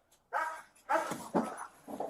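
A police dog barks in a cop video game, with about four sharp bark bursts in quick succession, fairly close and clear, with no talking over them.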